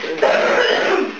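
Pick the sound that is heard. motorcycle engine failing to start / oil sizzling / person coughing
person coughing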